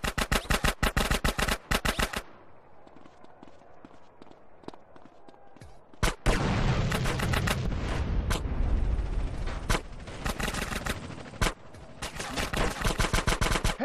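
Rapid bursts of Uzi fire in GTA San Andreas, loud rattling volleys at the start, a quieter stretch of muffled shots and ambience, then long heavy automatic bursts with booms underneath.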